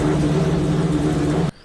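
A Lamborghini sports car engine with a Ferrari-like sound drones loud and steady, then cuts off abruptly near the end.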